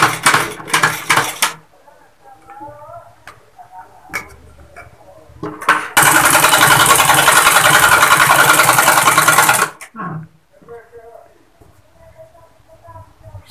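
Sewing machine stitching the round collar of a ladies' suit at a tailoring shop, a steady dense whirring run of about four seconds in the middle, with short bursts before and speech around it.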